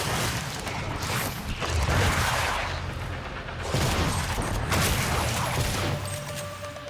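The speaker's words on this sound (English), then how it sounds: "I really like the shotgun." Shotgun blasts in the 2017 sci-fi shooter Prey, a few heavy booming shots spaced a couple of seconds apart over constant game ambience and mechanical clatter, loud and close.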